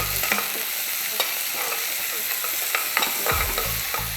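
Onions sauté and sizzle in hot oil in a pan, a continuous soft frying hiss broken by scraping stirs of a spoon against the pan, close and alone with no talk.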